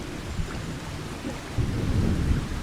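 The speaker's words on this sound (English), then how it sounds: "And maybe the rain will stop by then." Thunder rumbles low and steady with rain pouring throughout a Farming Simulator 25 game scene, a heavier roll swelling in the second half, continuous and fairly loud with no voices.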